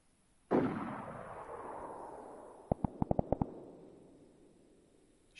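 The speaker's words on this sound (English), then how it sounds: "Shots from that direction then to the north." In DayZ, a loud boom goes off and trails into a long echoing decay, then a rapid burst of about seven sharp, distant gunshots cracks out in quick succession, with no talking.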